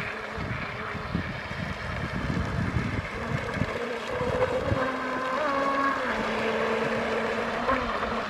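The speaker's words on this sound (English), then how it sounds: "just test driving his rescue boat." A small radio-controlled rescue boat motor whines steadily nearby on a quarry, its pitch rising and shifting, with wind buffeting the microphone.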